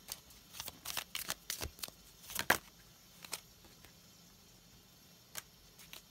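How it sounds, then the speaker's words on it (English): Tarot and oracle cards are shuffled by hand in a quiet room, giving a series of soft, quick riffling and slapping bursts that come in irregular clusters and then thin out. "I'm going to put these back and I'm going to shuffle."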